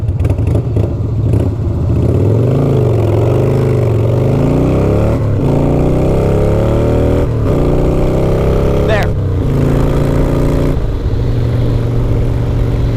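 A Harley-Davidson motorcycle launching hard, its loud close engine revving with rising pitch sweeps through the gears and brief drops at each shift. The rear wheel spins in first gear.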